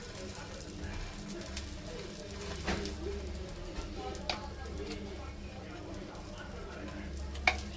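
Bread frying in ghee in a pan with beaten egg for an omelette sandwich, a faint, even sizzle with a low hum underneath and a few soft scrapes and one sharp click near the end.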